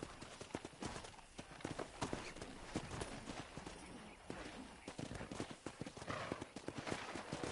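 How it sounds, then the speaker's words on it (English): Hooves clatter in a rapid, uneven galloping rhythm from a pack of wild horses in Red Dead Redemption, several moving together, with a whinny and faint voices in the background. "there's a pack of wild horses nearby"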